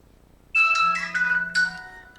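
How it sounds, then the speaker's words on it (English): A mobile phone ringtone rings loudly and close by, a bright electronic melody in two bursts with a steady low hum underneath, no talking. "there goes my phone."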